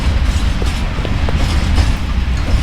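Train in the Roblox game Mad City, a steady rumbling rattle of rolling rail cars with faint clicks, loud and continuous with no one talking.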